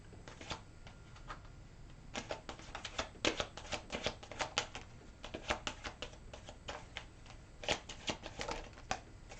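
Tarot cards shuffled for a reading, with rapid bursts of crisp riffling clicks in quick clusters separated by short pauses, close and fairly soft and without speech.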